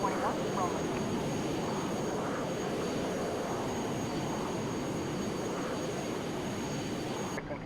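Airliner jet engines roar steadily on the takeoff roll in Microsoft Flight Simulator, a loud, even drone with a high whine riding over it, while a voice talks beneath.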